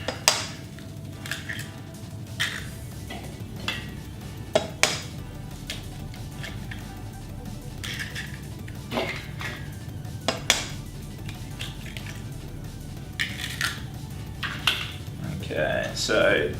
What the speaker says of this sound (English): just going to give this a bit of a whisk together